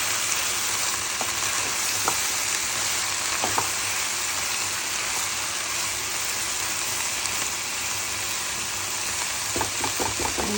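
A steady, close sizzle of bottle gourd frying with fish and chopped coriander fills the pan, broken by a few faint scraping stirs near the start and end, with no one talking.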